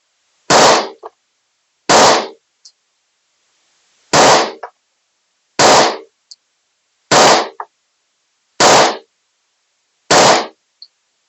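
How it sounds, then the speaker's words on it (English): Seven sharp, loud shots from a Hi-Point .45 pistol firing hollow-point rounds at a shooting range, spaced unevenly about one to two seconds apart with silence between them. "take the safety off, ready to shoot"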